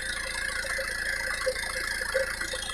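Isuzu Panther diesel engine idling during injector purging, a steady close clatter with a constant rattling knock and a high whine, no voices.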